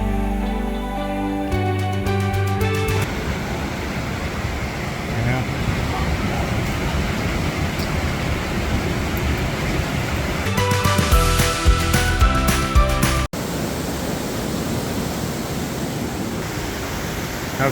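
Waterfall in the stone gorge at Watkins Glen State Park, a loud, steady broadband roar of falling water close by that fills the whole stretch, with people talking briefly over it.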